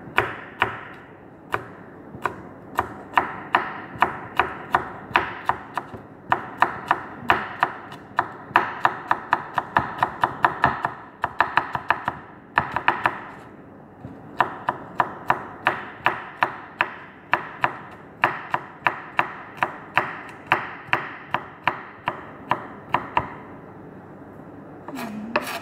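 A knife chops tomatoes and onion very finely on a board, producing a steady, rapid run of close, crisp knocks with brief pauses between bursts and no talking.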